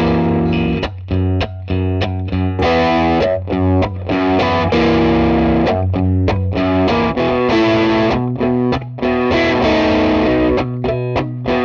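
Electric guitar through a Dr. Z Maz 8 amp with the tone stack bypassed, playing loud, driven chords and riffs with a hot, saturated tone. Dense and continuous, with brief rhythmic gaps between phrases and no talk.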